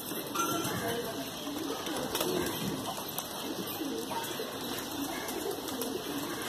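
Old-breed pigeons, including a prettily coloured kaldumme-type bird, cooing softly and steadily with continuous broadband noise and a faint background voice throughout.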